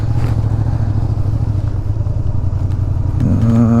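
A motorcycle engine idles loudly and steadily up close, with a rough rumbling throb and a slight rise in pitch near the end.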